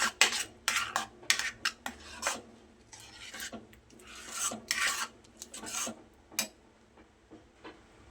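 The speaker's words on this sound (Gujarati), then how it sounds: "ફ્લેમને લો રાખીશું જેથી નીચે આ લોટ બેસે નહીં. આ રીતે હલાવતા જવાનું છે." Jowar flour batter stirred in a pan over a low flame, with a spoon scraping and rasping in repeated strokes of uneven rhythm, close and fairly loud, with no talk over it.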